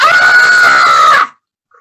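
A woman's loud, sustained scream on stage in a comedy play, lasting over a second close to the listener, then cutting off abruptly into silence.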